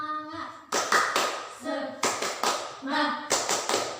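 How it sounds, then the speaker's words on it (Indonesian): A group of women performs tepuk semangat, sharp bursts of rhythmic hand clapping in short patterned runs, alternating with chanted voices between the claps, close and loud in an indoor training session. "Terima kasih nggih ibu-ibu nggih sudah bersedia tepuk semangat sareng-sareng nggih."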